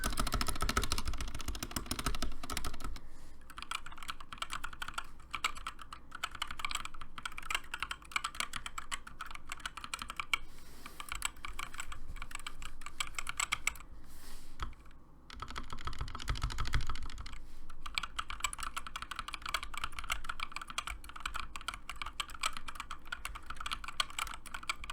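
Close, crisp keystrokes on a GK61 mechanical keyboard with Gateron Optical Yellow switches: rapid random key presses in bursts, with brief pauses and a few heavier spacebar thumps, no talking.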